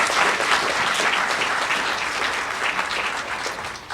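Full, sustained applause from the audience at a GED graduation ceremony, a dense roar of clapping that stays strong and slowly eases toward the end, with no voices over it.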